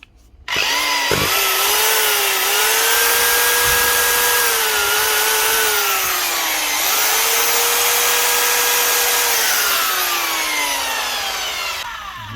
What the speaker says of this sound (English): An old Hitachi drill.